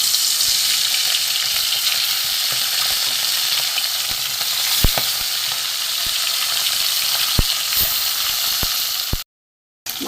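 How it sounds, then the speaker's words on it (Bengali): Pieces of bata fish coated in salt and turmeric fry in hot oil in a wok, a loud continuous close sizzle with occasional sharp pops, cut off abruptly near the end. "এখানে আমার বাটা মাছ কেটে আমি নুন হলুদ মেখে রেখেছি"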